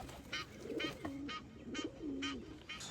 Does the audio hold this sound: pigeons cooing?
yes